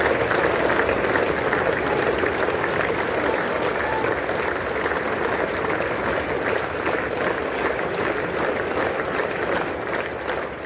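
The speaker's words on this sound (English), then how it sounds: "Lawmakers stood up and applauded as he walked up to the podium to deliver his address" US lawmakers in Congress give a standing ovation as Indian Prime Minister Modi walks to the podium, a broad, sustained roar of clapping from a large chamber, steady and unbroken throughout.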